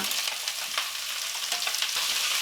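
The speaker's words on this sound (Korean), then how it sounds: "썰어둔 양배추와 양파를 넣습니다" Sliced cabbage and onion stir-frying in hot cooking oil on a griddle pan, a steady close sizzle with crackling bursts throughout.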